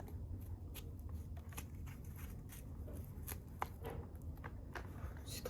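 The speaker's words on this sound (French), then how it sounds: "Alors, on va couper une tranche." A knife cuts a slice from a dragon fruit with a run of soft, quick slicing clicks and light scrapes. They are close but faint against a constant low background rumble.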